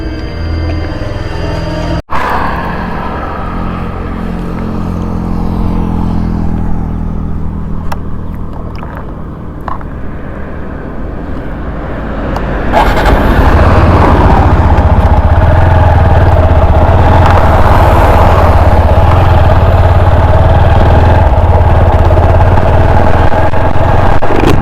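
A TVS motorcycle rides along a highway with a helmet-mounted motovlog setup, its engine droning steadily and loud wind rush building as speed rises partway through, with no talk.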